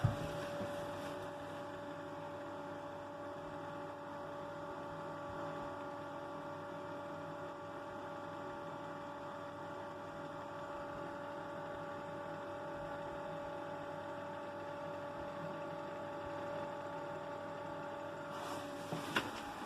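A small ordinary electric fan blows air for a solar air collector tested in winter, giving a steady, even hum and whir with a faint tonal whine and no change throughout.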